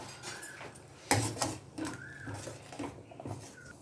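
A spoon scrapes and clinks against a pan while methi powder and hing are stirred into appalam vathakolambu, a few irregular metallic knocks and soft scrapes, fairly close, with no talking.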